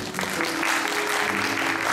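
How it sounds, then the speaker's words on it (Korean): Welcoming applause from a church congregation for a student, a steady dense wash of clapping filling the room for a couple of seconds, with a faint tone held underneath. "환영의 박수 부탁합니다"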